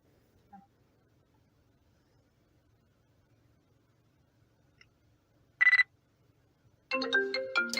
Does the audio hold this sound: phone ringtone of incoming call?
yes